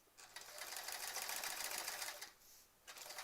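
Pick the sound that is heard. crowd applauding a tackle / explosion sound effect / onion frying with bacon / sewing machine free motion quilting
sewing machine free motion quilting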